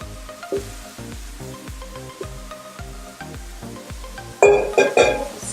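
Vegetables hit a skillet of cooked ground beef for lettuce wrap tacos, a rhythmic scraping and stirring at first, then a loud burst of sizzling that swells near the end.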